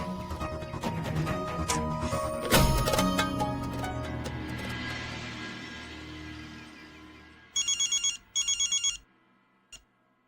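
A telephone rings unanswered in a TV drama scene: two loud bursts of a trilling electronic bell near the end, with one short chirp after them, following a stretch of swelling background music.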